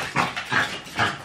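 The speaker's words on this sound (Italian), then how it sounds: "il cane fa casino, fa casino" A dog makes three short, loud vocal bursts in a steady rhythm, close by, with no talking over them.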